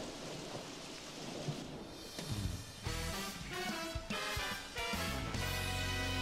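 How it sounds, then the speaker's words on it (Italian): Steady heavy rain pours down while deep thunder rolls and crashes several times in Super Mario Odyssey, loud and close, with a low rumbling undertone throughout. "pensavo ci fosse il sole, come piove."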